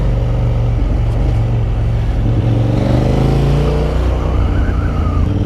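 A KTM Duke 890 motorcycle with an Akrapovic exhaust riding through London in second gear at low revs, a loud close steady engine rumble with wind, and no voices.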